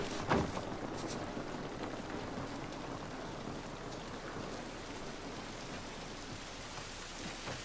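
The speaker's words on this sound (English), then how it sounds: "The rain looks good." Steady rain falling in the video game The Last of Us Part II, a dense, continuous patter on surfaces at moderate level with a brief louder hit near the start, with no talk over it.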